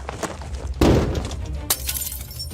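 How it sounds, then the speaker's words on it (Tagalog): Glass shatters in a sudden loud crash as a heavy impact breaks it, followed by a scattering of fragments. A second, sharper hit comes shortly after against a dim, quiet background. "Sinundan yon ng malakas na tunog ng salaming nabasag at ng isa pang mas malakas na kalabog."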